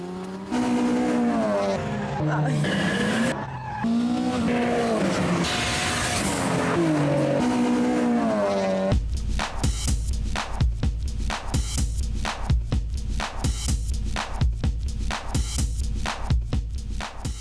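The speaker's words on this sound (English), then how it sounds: "We decided to chuck some quick road cars out on a racetrack for a bit of a battle" Quick road cars race on a track: first a swelling, changing engine note as a car revs through gears, then a harsher, closer roar of several cars battling with rapid throttle bursts.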